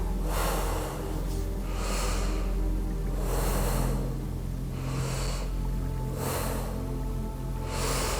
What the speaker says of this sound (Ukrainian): Вдихаємо носом і видихаємо носом.